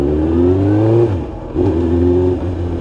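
Suzuki GSXR1000 sportbike in limited-edition Movistar trim, its engine revving loudly and close by in two rising blips with a brief dip between them, no voices present.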